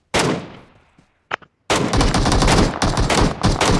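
Gunfire between players in PUBG Mobile, a loud opening burst that fades, a couple of short isolated shots, then a heavy sustained barrage of rapid shots through the rest.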